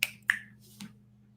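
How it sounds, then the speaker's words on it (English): A hand gives two crisp finger snaps in quick succession, close and sharp, followed by a softer third click, over a faint steady hum. "Snap your fingers, Jason."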